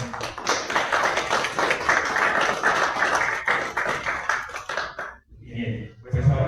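Strong, sustained applause from an audience at a commemorative literary event in Mexico, a dense wash of clapping for about five seconds that stops sharply before a speaker resumes.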